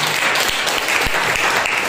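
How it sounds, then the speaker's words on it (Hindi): Congregation clapping for God during a Hindi-language church service, a dense, steady burst of applause filling the room with no voices on top. "एक जोरदार परमेश्वर के लिए ताली बजाइए।"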